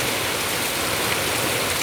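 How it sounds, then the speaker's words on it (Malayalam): Heavy monsoon rain pours down in a dense, unbroken hiss, loud and close, with a steady wash of water and no break throughout. "നല്ല മഴ"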